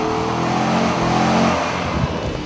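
Mercedes-Benz SLK 55 AMG convertible at the Baramati airstrip, engine roaring loudly and steadily, a sustained close revving growl with rich low harmonics and faint exhaust crackle toward the end.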